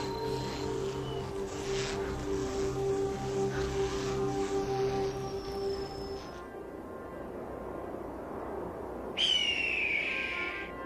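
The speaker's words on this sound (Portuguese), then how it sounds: "O pio agudo do falcão de cauda vermelha leva-me até uma jovem fêmea" A red-tailed hawk gives a shrill, descending call near the end, loud and fairly close, after a stretch of whistling wild sounds and low background hum.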